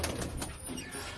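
A racing pigeon coos softly in a pigeon loft, a faint low murmur sitting in steady background noise.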